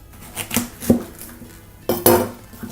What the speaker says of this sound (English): I'm going to chop up my cauliflower